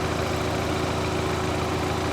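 A Twin Power Turbo car engine idles roughly with the hood open at a salvage auction yard, shaking noticeably, giving a steady, close, continuous hum with no talk over it.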